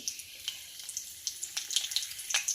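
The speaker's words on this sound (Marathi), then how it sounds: "कढीपत्ता तडतडला" Curry leaves crackle and pop in hot oil in a wok-style pan, sharp spitting bursts over a soft, continuous sizzle, close by with no talking.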